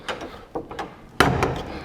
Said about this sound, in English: I'll close the door back up again